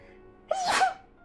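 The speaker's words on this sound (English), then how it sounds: "I guess all these tears are making me sneeze." One quick, close sneeze with a sharp breathy burst, standing alone against a quiet, faint background, from the video game Hakuoki: Edo Blossoms.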